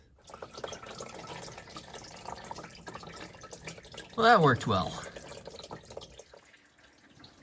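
Engine coolant drains from a 2009-18 Dodge Ram 1500 5.7L Hemi through a wide intercooler hose into a bucket, a faint continuous trickle and drip beneath a brief spoken remark.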